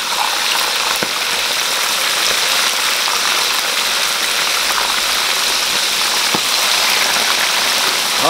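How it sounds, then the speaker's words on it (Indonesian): Tilapia frying three at a time in hot oil, caught from the net, gives a steady loud sizzle and crackle that goes on without a break, with a few faint pops. "Kita nak goreng lagi guys,"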